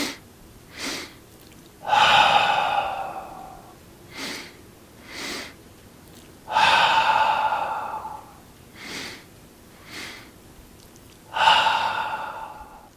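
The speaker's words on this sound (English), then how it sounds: "breathing out." A person breathes slowly and deeply during a physiological-sigh relaxation exercise. Short inhales alternate with three long, loud, breathy exhales, heard close up in a quiet room in an even rhythm.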